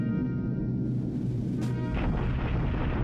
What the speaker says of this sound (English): some more bombing on Chinese troops